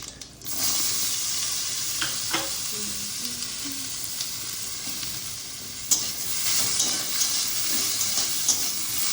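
Cumin seeds and dried chillies sizzle in hot oil with a loud, continuous hiss close by, marked by occasional sharp crackles and a few clinks from stirring.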